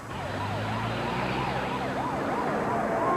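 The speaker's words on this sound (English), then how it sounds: "Hearing the sound of sirens, Rick drove toward them" A wailing emergency siren rising and falling repeatedly, fairly loud and steady, over a low rumble of traffic.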